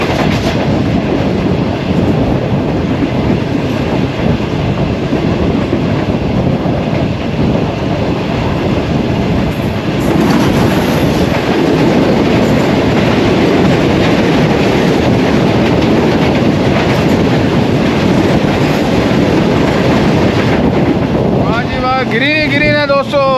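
The 34 Down Pak Business Express on the Lahore–Karachi line rushes past, a loud continuous roar of wheels and wind buffeting with rhythmic rail clatter throughout, heard from another moving train.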